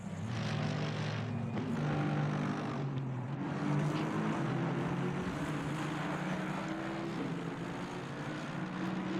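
GT3 race cars at Laguna in a 2020 ASRNZ GT3 race, a pack of engines droning loudly and steadily with no gaps as the field streams past.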